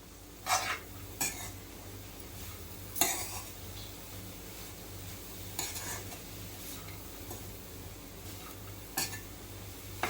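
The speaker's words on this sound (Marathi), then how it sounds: "गुळामध्ये चांगलं शिजवून घ्यायचं आहे गूळ चांगले वितळ वितळे त्याच्यातच शिजेल" Grated coconut cooking with jaggery in a pan, a soft sizzle under repeated spoon scrapes and clinks against the pan, several sharp stirring strokes spread through the stretch.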